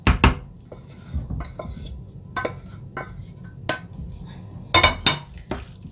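A spoon stirs béchamel and aubergine gratin ingredients in a dish, giving a series of sharp scraping clinks and knocks against the cookware, close and fairly loud, with quiet pauses between strokes.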